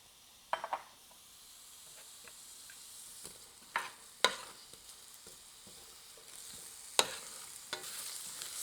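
Chopped onions sauté in coconut ghee in a pan, a quiet continuous sizzle punctuated by several sharp clinks and scrapes of a utensil stirring against the pan.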